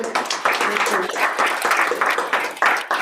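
A book launch audience applauds a poet after his piece, uneven bursts of clapping that swell and dip, with some voices mixed in.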